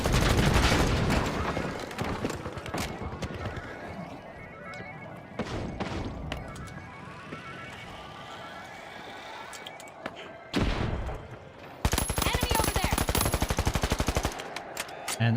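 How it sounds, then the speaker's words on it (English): Rapid bursts of automatic gunfire from a gun in a video game, loud and close, with long sustained volleys broken by short pauses and heavier bursts near the start and end. "I need to control the recoil of this gun better"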